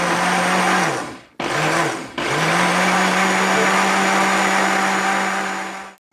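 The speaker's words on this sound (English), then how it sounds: "I want the petals to be ground up so that they're very small" A small electric grinder whirs loudly as it grinds dried flower petals with baking soda and arrowroot powder for herbal deodorant, running in two short bursts and then one long steady run, close up and with no talking.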